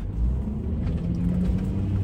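A remapped 3-litre TDI V6 diesel SUV engine running, a steady low rumble with a faint hum, even and continuous with no change in pitch.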